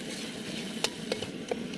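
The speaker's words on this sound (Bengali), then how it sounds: "আদা রসুনের পেস্টটা দিয়ে দিলাম এটাও হালকা করে একটু ভেজে নেব" Ginger-garlic paste fries with onions in a hot pan, giving a soft, steady sizzle with a few sharp spoon clicks and scrapes from stirring, close by and fairly quiet.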